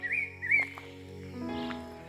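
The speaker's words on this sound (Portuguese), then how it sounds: "Só passarinho aqui na volta." Small birds chirp around an old, long-abandoned house, with a few quick, high tweets close by at the start and softer calls later over a quiet background.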